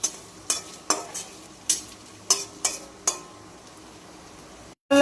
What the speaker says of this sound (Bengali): প্রথমে পনিরগুলো আমি ভেজে নিচ্ছি কেটে কেটে